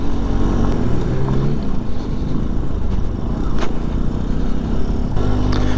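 A 2022 Benelli Tornado TNT 125 motorcycle's small engine drones loud and close, revving with shifting pitch as the back wheel spins up, with wind noise over it.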